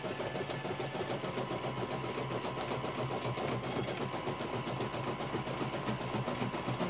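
An embroidery machine stitches an appliqué coaster, giving a steady, fast mechanical whirr and needle chatter that holds at an even, moderate level with no pauses throughout.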